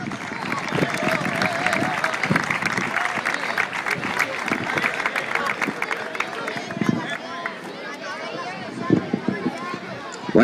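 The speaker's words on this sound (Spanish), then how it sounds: "Fuerte aplauso para el entrenador Manolo Pérez Jiménez" A crowd at a football club's team presentation gives a hearty round of applause for a coach, loud, dense clapping close by with scattered voices and shouts mixed in, gradually thinning toward the end.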